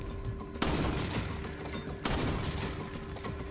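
Two loud, close gunshots ring out in Resident Evil 4 as a pistol headshot lands, each sharp crack trailed by a short dense rumble, about one and a half seconds apart, with no talk.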